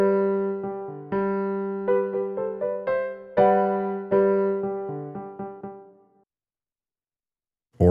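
A software piano instrument playing MIDI notes: a run of struck notes and chords, each decaying naturally, that fades into silence before a brief sound at the very end.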